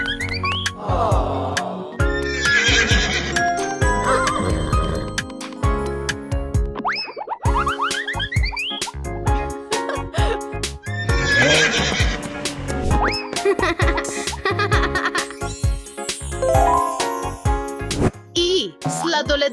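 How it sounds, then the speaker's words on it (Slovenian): A horse and carriage, with a horse neighing and hooves clip-clopping, set among a dense, busy mix of musical and cartoon-like effects, with several whinny bursts and a steady layered rhythm throughout. "H. Konj in kočija."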